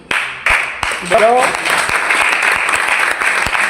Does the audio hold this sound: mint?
no